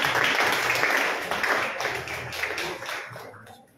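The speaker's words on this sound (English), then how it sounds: "Round of applause" An audience applauds at a book launch ceremony as the author is invited to the stage, a dense, steady wash of clapping that slowly fades over several seconds.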